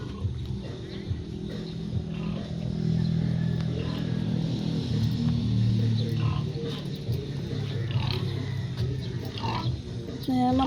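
Pigs grunt and oink in a rural pen in Samal, Bataan, a steady low rumble of close snorting that runs throughout, with people talking and greeting the animals over it.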